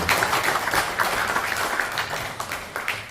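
Audience at a Korean poetry recital concert applauds to welcome actor Dokgo Young-jae, a steady, moderately faint wash of many hands clapping throughout the short stretch.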